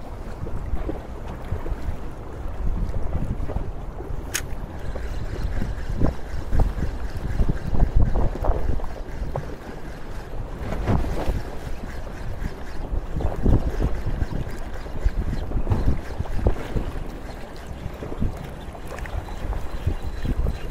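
Steady wind roaring at sea on a fishing trip off Perak, Malaysia, a continuous low rumbling buffet with water sloshing underneath, loud and unbroken, no one speaking.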